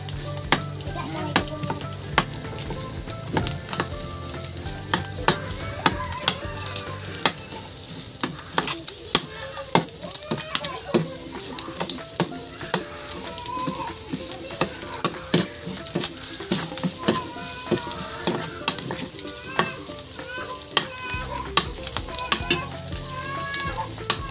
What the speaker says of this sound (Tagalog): Sunod na po nating lagay yung ating bawang.